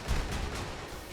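The Cicada rocket launcher fires and explodes in a video game, giving a single loud, broad blast with a rumbling tail that fills the short moment.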